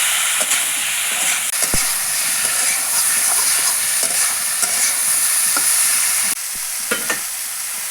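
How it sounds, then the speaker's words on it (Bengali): Potato and cauliflower fry with salt and turmeric in a pan, giving a loud, steady sizzle with scattered stirring clicks throughout and no voices. "লাল লাল করে একটু ভেজে নিচ্ছি।"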